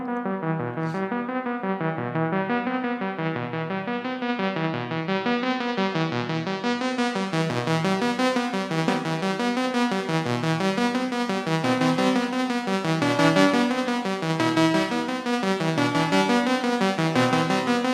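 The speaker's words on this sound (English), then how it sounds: "what you're hearing right now is the Odyssey inside the MPC." A thick Odyssey analog synthesizer, played through an MPC, holds a steady, pulsing tone with a slow wobbling pitch pattern and brightening filter, sustained throughout with no talking.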